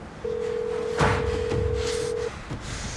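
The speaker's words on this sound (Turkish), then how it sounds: "Aç şu telefonu!" A steady electronic telephone tone rings on and on without pause, with muffled background noise and a few soft bumps underneath.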